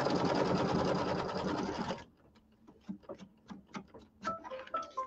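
Embroidery machine stitching a placement line on fabric for a tree-trunk block, starting with a steady loud rapid stitching drone, then dropping to quieter scattered ticks and taps.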